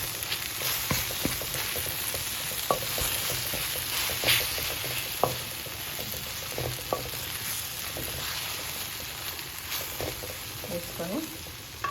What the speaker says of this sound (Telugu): ఇలా అంతా టమాటాలు వేగిన తర్వాత ఇంకా వేగిపోయినాయి టమాటాలన్నీ. ఒక 3 చిన్న ఉల్లిపాయలు వేసుకోవాలి.